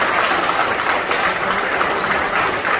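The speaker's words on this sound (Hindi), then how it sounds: "मैं ताली और तेजी से होनी चाहिए" Audience claps at a defence industry conference, a dense, loud, sustained burst of applause lasting a few seconds without pause.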